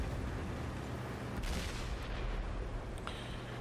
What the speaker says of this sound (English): There was a shot fired in there